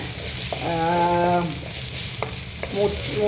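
Onions sauté in a pan until golden brown, giving a continuous close sizzle and frying hiss with a few utensil taps and clinks, plus a brief tonal whine early on.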